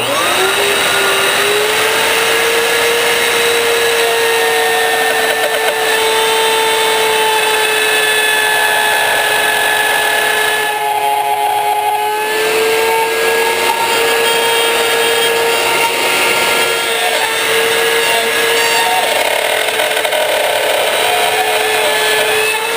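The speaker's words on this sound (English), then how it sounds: "just take the router, adjust it so the bearing will run on this this template underneath, and it should trim this off to the shape of the template." A handheld router with a bearing bit trims wood flush along a template for a teardrop trailer build, a loud, continuous high whine that holds steady throughout, close and alone, with a brief dip near the middle.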